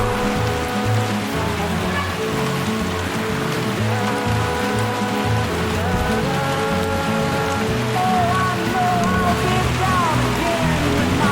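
Steady rain falls on a surface during a multi-day hike on New Zealand's Routeburn Track, a continuous close patter and hiss with no breaks for the whole stretch.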